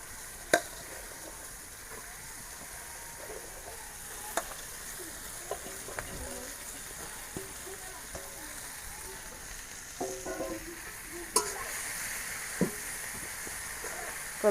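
Water spinach fries with dried fish and spices in hot oil, a faint, steady sizzle marked by scattered sharp clicks from a utensil against the pan.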